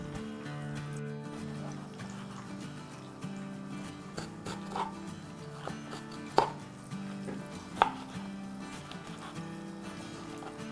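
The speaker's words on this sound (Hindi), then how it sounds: "इस दौरान हम अपनी कुछ मिर्चें काट लेते हैं, अदरक काट लेते हैं, हरा धनिया काट लेते हैं।" Green chillies, ginger and fresh coriander chopped with a knife while kabab karahi fries nearby: sparse, irregular knife knocks on a board, a few louder strikes, over a steady low background hum, with no talk.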